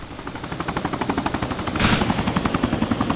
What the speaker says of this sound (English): Chopper, 50 cal, snipers, Chris's deed.